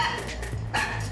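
A Chinese crested dog barks in a couple of quick, sharp bursts, fairly close and loud, with no talking over it.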